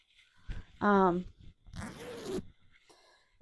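A zipper on a handmade top-stitched bag is pulled in a few quick ratcheting zips, close and fairly loud, with a person talking around it.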